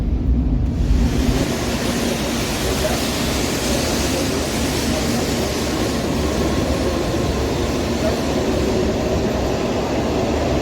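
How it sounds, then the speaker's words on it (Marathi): Steady, loud cabin rumble of a Japanese bullet train in motion, heard from a window seat inside, a continuous broadband roar with no pauses. "बुलेट ट्रेन सुरू झाली आहे."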